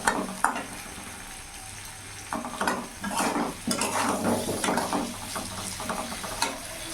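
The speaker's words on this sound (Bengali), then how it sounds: "ভালো করে নাড়াচাড়া করে মিশিয়ে নেব।" Spices with Kashmiri chilli powder stirred and sizzling in a hot pan, with a spoon scraping in irregular bursts over steady frying hiss, close and fairly loud.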